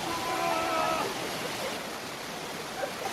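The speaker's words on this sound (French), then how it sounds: "Petite cascade pour dégonfler un peu les chevilles." A small waterfall in the Thai jungle pours with a steady, broad rushing hiss, close and continuous, with a brief faint tonal sound early on.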